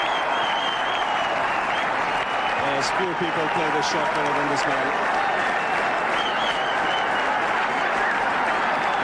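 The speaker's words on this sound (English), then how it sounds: "deserves every bit of the applause he's getting here" A stadium crowd at a 1999 Pakistan versus Sri Lanka one-day cricket match applauds a batsman's fifty, with steady, broad clapping throughout the clip while a commentator talks over it.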